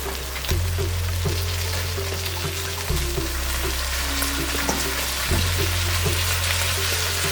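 Chopped carrot, beans and broad beans fry in oil and ghee for sambar rice, giving a steady, loud sizzle close up. A low hum rises and falls in the background, and there is no talk.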